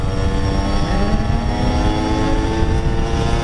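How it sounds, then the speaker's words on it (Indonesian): A Suzuki Satria two-stroke motorcycle engine drones loudly and steadily through a loud exhaust, its note holding a buzzy pitch that creeps slightly upward, close by with no voices. "jadi pengaruh knalpot ini keras sih"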